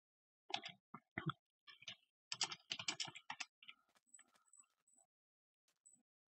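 Game-mode commands being typed on a computer keyboard: close, quick bursts of clattering keystrokes in uneven runs that thin out into a few lighter isolated taps, with no talking.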